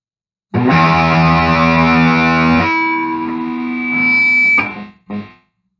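A heavily distorted electric guitar chord through a Metal Zone distortion pedal rings out loud and sustained, then thins to a buzzing held note before a short final stab cuts off.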